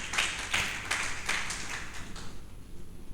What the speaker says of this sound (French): Applaudissez fortement pour l'Éternel.